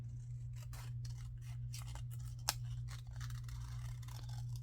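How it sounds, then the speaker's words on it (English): Scissors cutting out a paper corset for a steampunk journal page, a series of quiet, close snips at an irregular rhythm over a steady low hum. "I might want to cut this corset out more"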